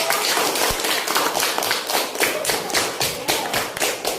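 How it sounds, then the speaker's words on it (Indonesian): Applause for a group of pupils in a classroom, a steady patter of many hands clapping in rhythmic bursts throughout, fairly loud and near, with no talking. "Tepuk tangannya mana untuk kelompok 1?"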